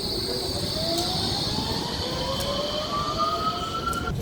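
An East Midlands Railway train bound for London St Pancras passes at Nottingham, a steady close rumble with a motor whine that climbs in pitch as it goes by.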